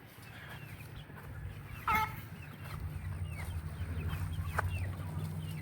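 Chickens clucking softly at moderate distance, with a few sharper calls standing out over steady outdoor background noise.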